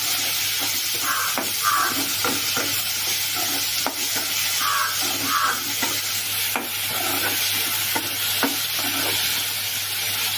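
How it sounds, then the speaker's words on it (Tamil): Tomatoes sautéing in a pan for a traditional fish curry, a steady close sizzle with repeated scraping stirs and a few sharp clinks of the utensil against the pan, no voices. "தக்காளி, நல்லா வதங்கட்டும்."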